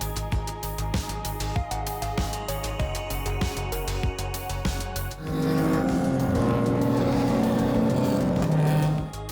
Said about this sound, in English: we were able to watch the cars racing around the track through the windows